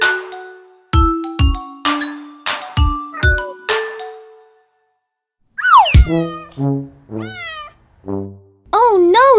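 A cartoon kitten in a children's song meows in a string of rising and falling sung cries after a run of bright ding-like chimes, all loud and close with a short silence between.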